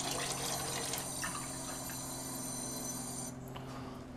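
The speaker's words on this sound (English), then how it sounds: "First thing we'll do is get some unfiltered tap water." Unfiltered tap water runs from a faucet in a steady, continuous hiss of flow, fairly close and alone, with the stream changing and easing near the end.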